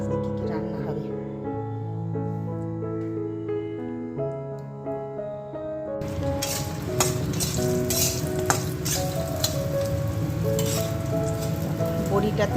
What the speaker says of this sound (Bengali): বড়িটা তেলের মধ্যে ভেজে নিলাম